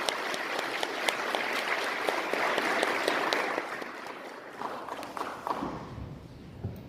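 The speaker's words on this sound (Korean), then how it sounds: "하나님께 감사와 영광의 박수 올려드리겠습니다." A church congregation claps during an afternoon Korean praise service, with dense, sustained applause that fades toward the end as faint voices emerge.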